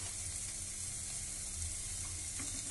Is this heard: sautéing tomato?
yes